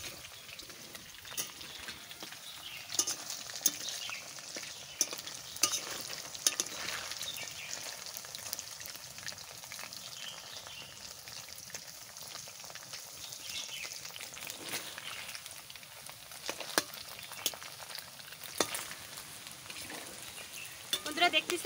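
Chicken for chilli chicken fries in a pan with a soft, continuous sizzle and faint clinks of a utensil stirring, while a voice speaks now and then.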